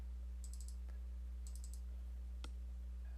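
Several quiet computer mouse clicks come in small rapid clusters over a low electrical hum, faint and close.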